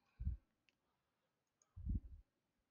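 Two separate mouse clicks on a computer, each a soft, close, low thud, spaced about a second and a half apart in an otherwise quiet room.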